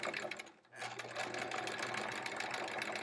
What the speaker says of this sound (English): I'm going to just sew right through that.